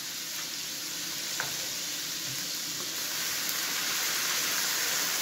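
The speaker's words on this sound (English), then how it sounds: "Always love that sound of the wine frying in the pan." Steady, bright sizzling of wine frying hard in a hot pan, continuous and close with no talking.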